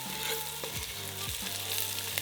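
Salt-and-pepper seasoned wild turkey sizzling steadily in a pan, with soft scraping and stirring strokes breaking through the constant frying hiss; close and continuous, no talking.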